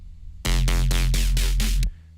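A single electronic synth bass note, loud and buzzy, holds for about one and a half seconds with a subtle pulsing wobble, then cuts off abruptly against a quiet background.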